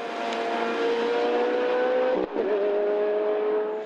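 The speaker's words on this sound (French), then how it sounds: "a multiplié les rondes sur le circuit limbourgeois avec cette F430" Ferrari F430 race car lapping the Zolder circuit in Belgium, its engine holding a loud, steady high note close by, with a brief dip and gear change before the tone resumes.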